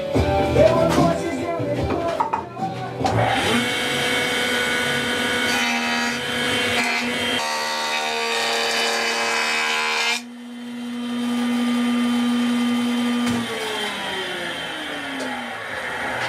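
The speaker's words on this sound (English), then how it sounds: "First thing I do is take it over to my joiner, and I flatten the outer part of the tree, or the bark edge" A wood jointer flattens the rough bark edge of a tree section for spoon making, a loud steady whine of cutter heads under the wood, dipping briefly as the piece comes off and then spinning again.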